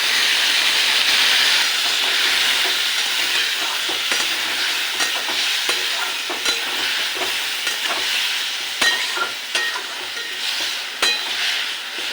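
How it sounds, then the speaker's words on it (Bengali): Whisked spiced yogurt paste poured into a hot pan, a loud hissing sizzle that slowly settles, punctuated by scattered clinks and scrapes of a stirring spoon, with no voices. "এবার এই ফেটানো মশলাটা এর মধ্যে ঢেলে দেবো।"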